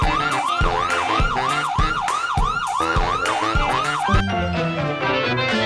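A loud police siren in the horror game Granny, played from a Bluetooth speaker, wails rapidly up and down, about two cycles a second, over low rhythmic thumping, then abruptly stops.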